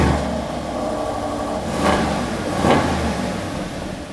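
An Aston Martin DBX with a sports exhaust idles with a deep, steady rumble, and two brief throttle blips swell the engine note slightly as it moves off close by.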